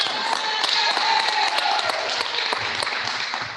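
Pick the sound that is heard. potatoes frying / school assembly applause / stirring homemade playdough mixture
school assembly applause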